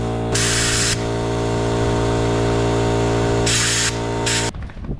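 Air compressor running loudly and steadily close by, with bursts of hissing air as it inflates 10-inch caster tires on a jon boat dolly, cutting off abruptly near the end.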